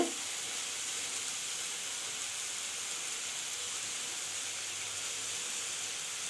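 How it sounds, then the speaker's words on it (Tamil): Drumstick (moringa) leaves sautéing in a pan for keerai kootu give a steady, even sizzling hiss that runs unbroken from start to end, with no voices. "இப்போ இந்த முருங்கைக்கீரையை நல்லா வதக்கணும்."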